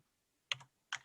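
Two quick clusters of computer keyboard keystrokes, close and clear, separated by a short pause in an otherwise quiet room.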